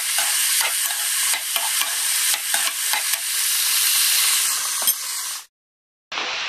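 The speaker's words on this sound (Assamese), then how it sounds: "এতিয়া ফুলকবি লৰাইছোঁ" Cauliflower sizzles and crackles in a hot frying pan while a spatula scrapes and stirs it in steady, uneven strokes. The sound is close and loud, then cuts off into a short silence before the frying returns.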